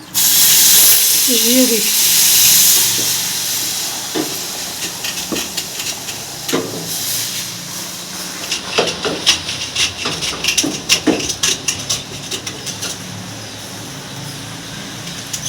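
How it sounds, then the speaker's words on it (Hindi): Milk poured into a hot pan of browned sugar while making kulfi, a loud burst of steaming hiss and sizzle that gradually fades into bubbling and clinking, with someone speaking briefly over it. "ब्राउन हो चुकी है, अब इसमें हम दूध डालेंगे।"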